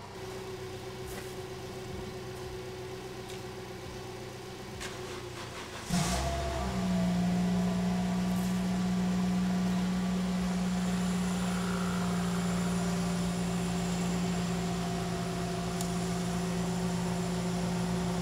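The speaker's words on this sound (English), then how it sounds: "We'll get the jump leads on this thing, and hopefully we can start her up." A Toyota MR2 engine being jump-started cranks and catches, then settles into a steady, fairly loud idle hum that runs on alone.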